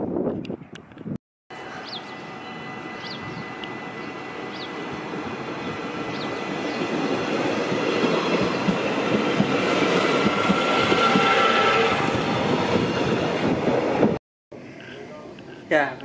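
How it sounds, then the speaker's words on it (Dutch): Interior of a moving Dutch sprinter train: a steady low rumble and rolling rail noise that builds gradually, with faint clicks, heard from inside the carriage. "Ja, we zitten nu in de trein."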